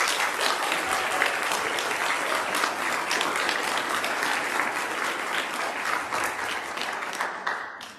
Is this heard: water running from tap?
no